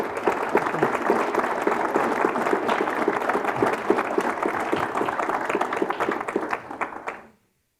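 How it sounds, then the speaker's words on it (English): A debate audience gives the panelists a sustained round of applause, dense and steady for several seconds before it tapers and stops abruptly. "give another round of applause for our panelists"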